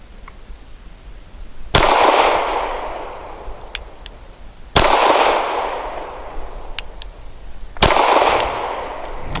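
An EAA Girsan MC28SA pistol fires SIG V-Crown 365 ammunition outdoors at a target: three sharp, loud shots spaced about three seconds apart, each followed by a ringing echo tail.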